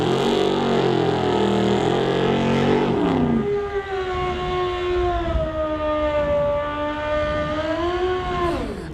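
Outlaw street drag cars, including a 1931 Ford, launch down the lane at a drag strip with a loud, close engine roar, then a long rising and falling whine as one car pulls away, with no voices.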